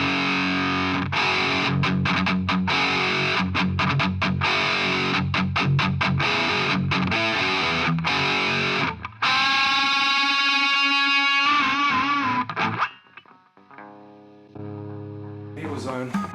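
Boss MS-3 multi-effects switcher running its Governor distortion on electric guitar: loud, saturated chords and chugging palm-muted riffs, then sustained ringing notes and a decaying tail, with no talking over it.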